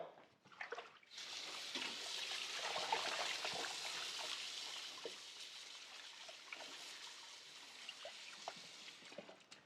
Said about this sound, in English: Right, I'll wash my hands.